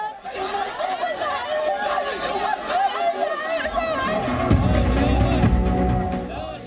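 An angry crowd in Jammu and Kashmir protesting against terrorism: a dense, continuous babble of many voices close by, growing slightly louder and rougher toward the end.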